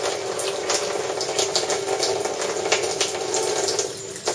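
Water gushes and gurgles steadily as it drains through a bell siphon in an aquaponics setup, a continuous close rushing sound with no pauses.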